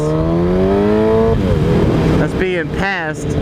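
A car engine revs loudly with a steady drone that climbs, then drops and rises again in short surges, close and continuous.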